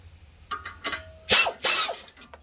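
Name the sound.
impact gun loosening 18 mm nut on ball joint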